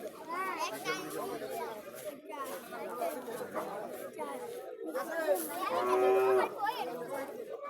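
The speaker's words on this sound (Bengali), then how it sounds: "বাজারও বিশাল বিশাল গরু আসছে দেখেন।" Cattle low now and then at a busy cattle market, with one clearer, longer moo near the end, set against steady crowd chatter and children's voices.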